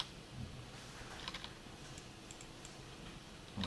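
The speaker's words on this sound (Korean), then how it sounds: "사용자는 이제 키보드를 이용해서 여기다 뭔가 입력을 하는 거죠" Quiet, faint clicking of a computer keyboard being typed on, a sparse scattering of soft keystrokes over a low background hiss.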